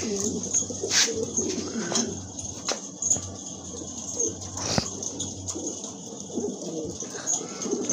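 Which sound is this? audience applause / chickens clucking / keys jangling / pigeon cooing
pigeon cooing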